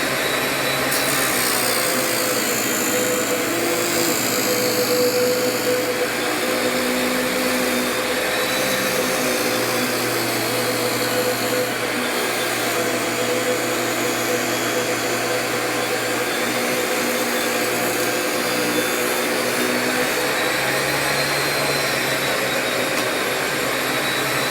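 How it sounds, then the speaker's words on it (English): Grizzly portable table saw running a dado cutter through a cut, a loud continuous motor whine with steady broadband cutting roar that holds for the whole stretch, no voices. "that dado cutter worked pretty decent in a portable table saw"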